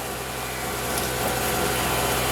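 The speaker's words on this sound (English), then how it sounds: "Now I've got to drill a hole to the outdoors." A power drill runs steadily as it bores a hole through a tiny house wall to the outdoors, a continuous whirring grind that swells slightly partway through.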